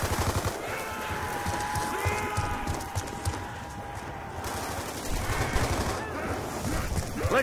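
Rapid automatic gunfire rattles almost constantly in Call of Duty Black Ops 2 Zombies, mixed with game effects and music and dense with layered bursts, while voices talk underneath.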